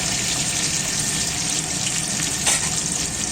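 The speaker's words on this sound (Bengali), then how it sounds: "চিকেনের আলুটা ভাজছি" Potatoes for chicken curry fry in hot oil, giving a steady, close, continuous sizzle with a brief louder crackle midway.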